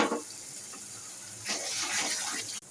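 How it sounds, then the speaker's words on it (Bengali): A small splash of water poured into a pan of chicken curry spices, a short gush followed by a hissing, bubbling surge that cuts off abruptly at the end. "পরিমাণ মতো নুন দিয়ে দিলাম, খুব সামান্য জল দিলাম কষানোর জন্য।"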